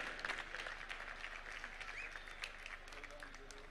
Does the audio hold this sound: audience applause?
yes